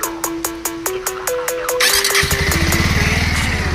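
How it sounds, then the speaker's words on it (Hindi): A Bajaj Avenger Street 160 motorcycle cranks on its self-starter with a rapid clicking whir, catches, and settles into a steady, close, throbbing idle. "सो वन सेल्फ में बाइक अपनी स्टार्ट हो गई है"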